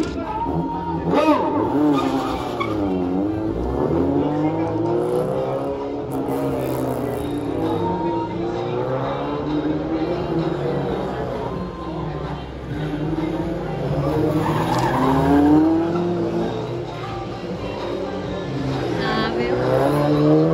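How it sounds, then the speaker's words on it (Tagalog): A Honda City and a Honda Civic race at a car club autocross, engines revving and tires squealing in continuous waves at moderate distance, while people talk and shout throughout. "Honda City versus Honda Civic."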